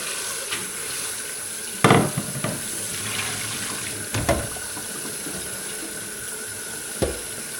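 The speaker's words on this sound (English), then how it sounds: "I'm just going to fill this up with some fresh water, give them another rinse around" Water from a kitchen tap runs steadily into a bowl of freshly harvested olives for rinsing, with a few clunks of the bowl and olives shifting at close range.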